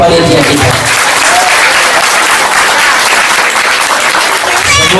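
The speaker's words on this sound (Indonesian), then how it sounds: "Mari bersama-sama kita kasih aplaus, tepuk tangan buat panitia kita." An audience applauds the organizing committee at a religious gathering in a prayer hall, with dense, steady clapping that holds loud for the whole stretch.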